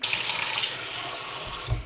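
Cold water poured slowly into homemade Cheez-It cracker dough, a steady close splashing stream for most of two seconds that stops with a soft low thump.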